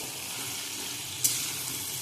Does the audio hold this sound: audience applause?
no